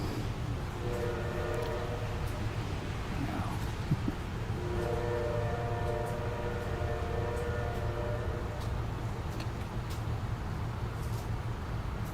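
A train passes at a distance while its horn sounds in long sustained tones, holding steady for several seconds, then breaking off and sounding again over a constant low rumble.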